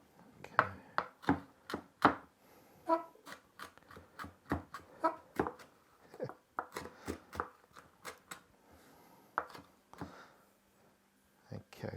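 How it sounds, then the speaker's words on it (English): A knife chops an ingredient finely on a cutting board for sweet chilli king prawns, a quick run of crisp close taps in uneven bursts with brief pauses between them. "So we're going to chop it fairly finely"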